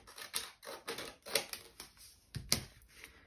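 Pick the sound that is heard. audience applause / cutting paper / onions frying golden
cutting paper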